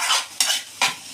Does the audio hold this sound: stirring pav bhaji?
yes